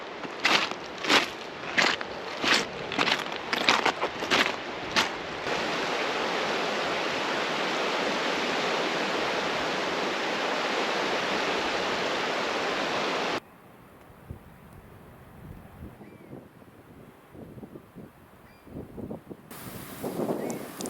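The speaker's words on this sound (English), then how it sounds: "right here is where the Bakers Brook Falls meets the ocean" Bakers Brook stream rushes where it meets the ocean on the Newfoundland coast, a broad steady roar of flowing water that later drops to a quieter wash with faint knocks and rustles.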